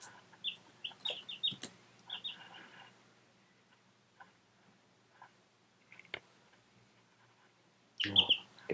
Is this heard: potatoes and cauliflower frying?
no